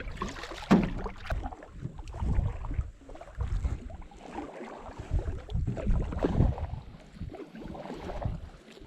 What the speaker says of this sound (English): Right now the paddling is good.